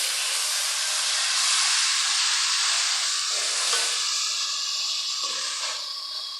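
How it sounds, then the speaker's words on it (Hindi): Tomato paste added to fried onions in a pan for a chana curry, sizzling as a loud, steady broadband hiss that holds for several seconds and eases slightly at the end. "इस स्टेज में हम इसमें 2 दरमियाने साइज़ के टमाटर का जो पेस्ट है वो ऐड कर देंगे"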